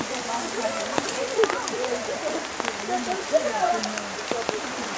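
Steady rain falling outdoors in Prudentópolis, Paraná, a broad hiss of drops with scattered sharper taps, while people talk nearby throughout.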